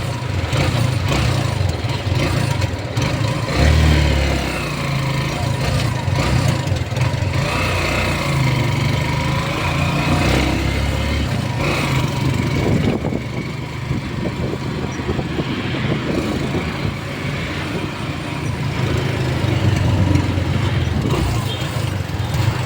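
Street traffic with trucks and motorcycles passing, a continuous loud engine rumble and whine with vehicles going by near, and voices talking intermittently underneath.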